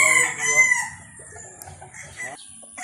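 A bulik talisayin rooster on a farm crows loud and close, one long drawn-out call that fades into quieter clucking and farmyard noise.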